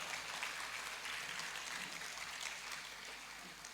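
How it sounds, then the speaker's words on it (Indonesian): Applause at a scout festival closing ceremony for the organizing committee, a faint, steady hiss of many hands clapping that sounds distant and fills the whole stretch without speech. "Berikan tepuk tangan untuk panitia semuanya."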